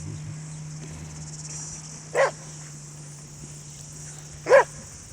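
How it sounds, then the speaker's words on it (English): Two short dog barks ring out alone, one near 2.2 seconds and one near 4.5 seconds, each fairly distant and modest in level, over a steady hum and a constant background insect-like drone. "Dogs."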